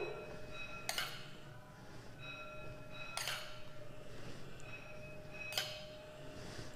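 A metal spoon clinks three times at even intervals against a bowl while desi ghee is spooned into flour, each bright tap ringing briefly over a quiet kitchen backdrop.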